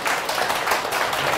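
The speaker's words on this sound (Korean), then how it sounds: "박수 좀 보내주세요." Brief burst of applause at a violin concert, a crowd clapping steadily and fairly loudly throughout.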